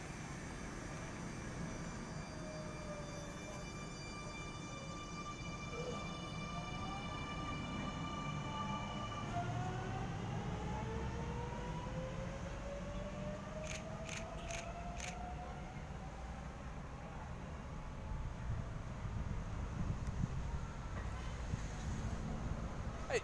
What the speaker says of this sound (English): Anyway, Millennium set M19 now departing for a Leppington service.